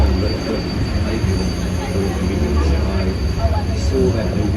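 The Universal Studios Hollywood studio tour tram rolls along with a continuous low rumble and faint wheel squeal, close and steady throughout.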